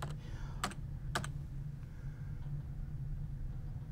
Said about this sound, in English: I'm just going to type in participants.